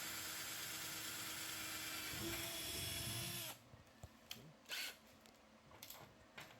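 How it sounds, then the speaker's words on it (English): A power drill bores a pilot hole in an aluminum fender with a steady, high, close whine for a few seconds, then stops, leaving scattered handling knocks and faint movement. "here we have Don drilling his pilot hole"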